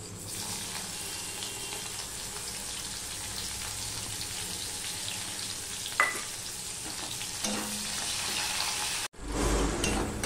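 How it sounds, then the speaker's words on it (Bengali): Onions fry in a pan after the tempering for a bitter gourd dish, a dense, steady sizzle that holds throughout with a couple of brief utensil clinks and a short cut near the end. "ফোড়নটা হয়ে গেলে আমি এখানে দিয়ে দিচ্ছি পেঁয়াজ"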